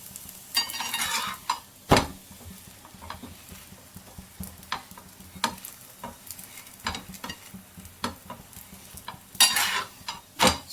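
Semolina (rava) roasting in ghee in a pan for rava laddu, stirred with a spoon that scrapes and clinks against the metal in irregular strokes over a soft sizzle, close up with no talking.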